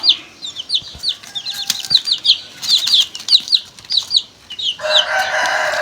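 Chickens cluck in rapid, close, loud bursts of overlapping calls, ending with a brief rush of noise like flapping wings.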